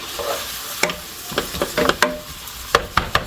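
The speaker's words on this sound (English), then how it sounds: "it's time that we put our onions and garlic in here" Onions and garlic going into a hot pan, with a sizzle and a few sharp clatters of stirring and utensil knocks over a steady background hiss.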